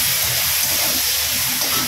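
Bitter gourd pieces fry in hot mustard oil seasoned with salt and turmeric, giving a steady, loud hiss with no breaks and no voices.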